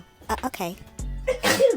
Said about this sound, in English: Because you fake sneezing.